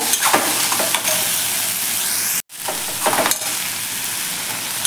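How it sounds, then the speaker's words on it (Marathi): Pumpkin vegetable curry sizzles in a pan as it is stirred and mixed, a continuous close frying hiss with scraping strokes and a brief break midway. "आता आपण हे व्यवस्थित मिक्स करून घेऊयात."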